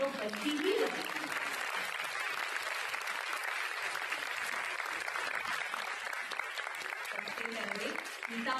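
Sustained, dense applause from an audience honouring teachers at a Satyug Darshan Sangeet Kala Kendra music event in Chandigarh, steady and close for the whole stretch, with a brief voice near the start.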